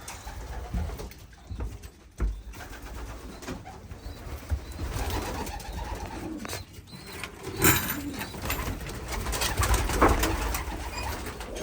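Racing pigeons coo repeatedly inside a loft at close range, with soft rustling and occasional wing flaps between the calls.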